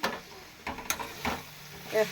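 Chutney being stirred in a wok as it catches and sticks to the pan, heard as a few short scraping stirs and faint sizzles, fairly quiet and intermittent.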